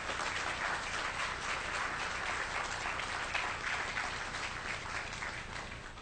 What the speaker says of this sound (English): So I'd like to begin by giving another round of applause to our true parents.